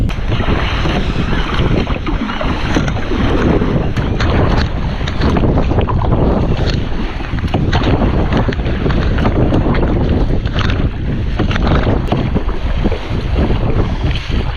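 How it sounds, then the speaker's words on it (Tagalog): Loud, constant wind buffeting the microphone over rushing water and waves while paddling a kayak into a headwind, a dense roar with no pauses and no voices. "kasi yung hangin pasalubong kaya hirap tayong magsagwan"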